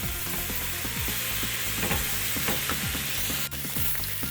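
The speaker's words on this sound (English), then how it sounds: "We're going to cook these onions down until they're a nice golden brown." Onions sizzle and crackle steadily in a hot pan as the base for Havel-style Czech goulash, a dense, continuous frying hiss with occasional stirring scrapes, close and loud, no voices.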